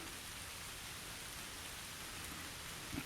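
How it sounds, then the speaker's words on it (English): Steady rain falls throughout, a dense, even hiss of drops on surfaces with no voices. "It just started raining."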